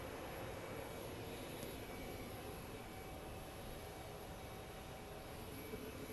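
An airplane landing at Phoenix Sky Harbor airport makes a faint, steady engine roar and rumble heard from a distance, with no voices over it.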